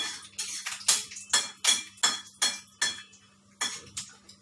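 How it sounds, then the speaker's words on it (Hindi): Peanuts tossing in a pan for bread upma, a rapid series of sharp rattling clinks and scrapes of nuts and spoon against metal, fairly close and steady, with no talking. "मैं मूंगफली फ्राई कर रही हूँ।"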